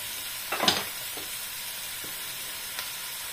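Filipino adobo cooking in a pan as water is poured in, a sharp burst of hissing sizzle near the start, then quieter crackling and a few brief hisses, close and alone.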